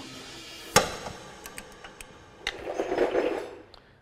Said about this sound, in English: that snapping noise, I suspect, was the sound of all the aluminium threads stripping out